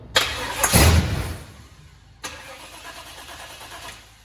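A 1972 Chevy Suburban with a new crate engine cranks without starting: a loud burst of starter grinding, then a fainter second cranking attempt that trails off, with no talking.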